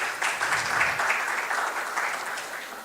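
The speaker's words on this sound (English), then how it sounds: "A big round of applause for you all" Steady applause from an audience at a CFA Society Pakistan charter award ceremony in 2024 fills the hall, dense and even, with a slight fade toward the end.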